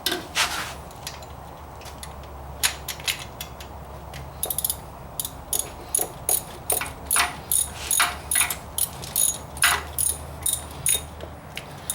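A ratchet turns a starter bolt on a Nissan Quest, Pathfinder or Mercury Villager. Scattered metallic clicks and clanks give way to a steady run of sharp, evenly spaced ratcheting clicks close by.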